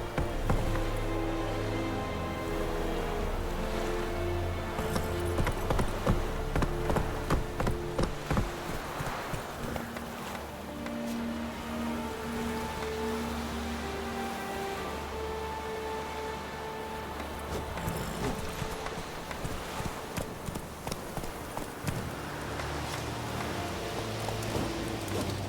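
Steady hoofbeats of a galloping horse in The Witcher 3: Wild Hunt, a continuous rhythmic clip-clop over a dense ambient game soundscape that lasts the whole stretch.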